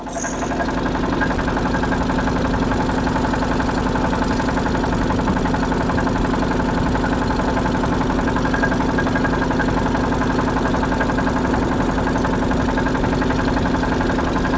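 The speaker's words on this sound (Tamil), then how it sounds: "நம்ம இன்ஜின் சவுண்ட் கொஞ்சம் பயங்கரமா தான் வருது" A loud vehicle engine runs continuously at a steady rumbling pitch, close and unchanging, with a constant vibrating drone and no other sounds.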